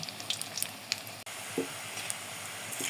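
Potato and cornflour kathi rolls frying in hot oil, a steady close crackling sizzle with scattered sharper pops, heard alone without talk.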